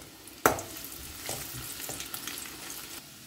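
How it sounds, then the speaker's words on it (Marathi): Garlic hits hot oil in a pan with a sharp initial clatter, then fries in a steady, gentle sizzle with light stirring, close and quiet and without voices. "तर लसूण न्ही मातशें फ्राय करून घेवया चड अशें ब्रावन करनाका"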